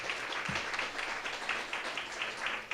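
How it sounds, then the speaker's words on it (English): A crowd at a community neighborhood benefit party applauds, producing a steady, even roar of many hands clapping, moderately distant and fairly quiet, with no talk over it. "let's give them a round of applause"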